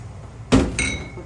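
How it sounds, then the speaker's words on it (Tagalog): Raw potato pieces drop into a pot of creamy chicken curry with one sudden close thump, followed by a brief clattering, sizzling rattle that fades out. "lagay na po natin itong guys, patatas"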